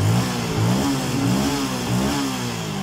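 Yamaha Vega fuel-injected motorcycle engine revving up and down in a few quick pulses, a close, loud, rough mid-pitched drone with clattering texture throughout.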